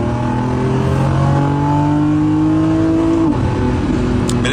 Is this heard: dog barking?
no